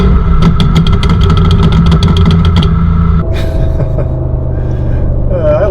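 Audi S4 fitted with a Fast Intentions exhaust, loud and close, rumbling with a rapid train of crackling burbles and pops for about three seconds before settling into a steadier low idle drone.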